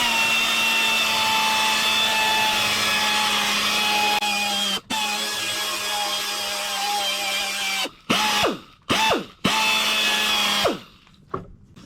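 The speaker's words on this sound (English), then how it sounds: "Knock that back down to a shine, and then we'll use a lighter compound and then our polishing compound right at the end." A power buffer works polishing compound over a painted gas tank for a Honda ATC200X, its high steady whine running nearly continuously before cutting out and restarting in short bursts near the end.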